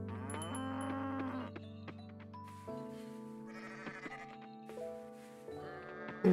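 Cow moos and goat bleats from the farming video game Coral Island, several calls in turn over soft game music, clear and close with no talking.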